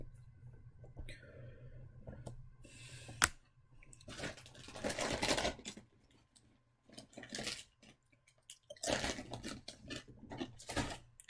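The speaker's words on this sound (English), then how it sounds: "Can you guys hear me munching on food?" Crispy chips being munched close up, with bursts of crunchy chewing coming in uneven clusters between quieter pauses over a low steady hum.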